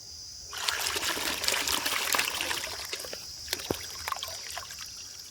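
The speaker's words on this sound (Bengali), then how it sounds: "এবার এই ছোট পুকুরে মাছগুলো ছেড়ে দিল" Water pouring and splashing as fish are released into a small pond, a continuous trickling rush with scattered splashes and drips, close and moderately loud throughout.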